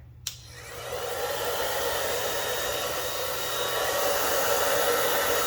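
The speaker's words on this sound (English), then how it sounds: "if I blow it out now with the blow dryer" A blow dryer blows across wet acrylic paint on a pumpkin-themed bloom pour, a steady, loud, continuous rushing whir that starts abruptly after a brief click and holds unbroken, with no talking.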